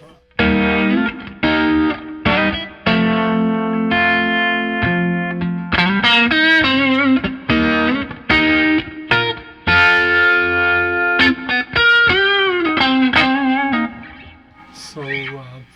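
An electric guitar plays chords and single notes through an MP Supreme tremolo pedal set to bias tremolo, the volume wobbling rhythmically with some grit and echo.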